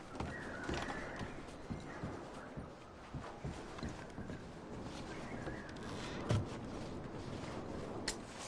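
Steady clip-clop of horse hooves on a hard surface in the video game Red Dead Redemption 2, rhythmic and moderately close, over a dense ambient background with no talking.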